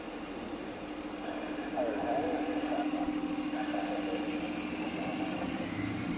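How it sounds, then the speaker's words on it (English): A tour bus idles beside an airport plane-spotting spot in Hawaii, giving a steady low engine rumble with a faint whine, close by and continuous for several seconds. "A tour bus has stopped right next to me."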